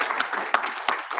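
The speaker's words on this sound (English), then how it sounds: "Shall we give a round of applause to the wonderful panel?" Conference audience applauding a panel at an international procurement and innovation event in Africa, a brief spell of moderate, uneven clapping from a modest crowd.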